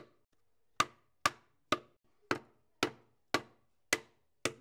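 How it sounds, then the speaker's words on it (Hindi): A hammer knocks a wooden cricket bat handle into place with eight sharp, evenly spaced blows about half a second apart. Each close, woody knock decays quickly into silence. "इस तरीके से लकड़ी को ठोकना नहीं चाहिए स्पेशली अगर तुम्हारा बैट हो"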